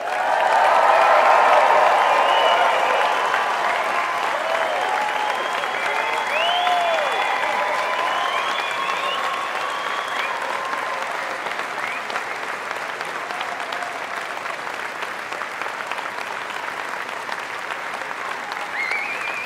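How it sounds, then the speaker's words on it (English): A graduation ceremony audience at Nottingham Business School cheers, whoops and applauds, a loud wash of clapping with shouts and whistles that swells at first and then slowly thins out. "I want the loudest cheer, applause, whooping and hollering that you can do"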